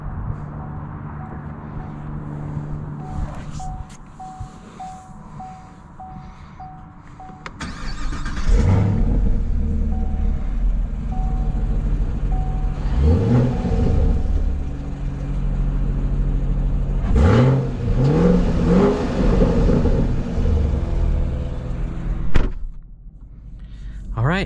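A 2022 Chevy Camaro LT1 V8 with performance exhaust idles, then fires up into a deep, throaty rumble that revs and surges several times, loud and close.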